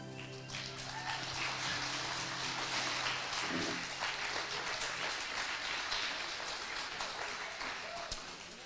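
A rowdy crowd at a Feast of Tabernacles music festival in Walnut Creek, Ohio breaks into sustained applause, dense steady clapping like heavy rain that fills the whole stretch, with a few voices faintly mixed in.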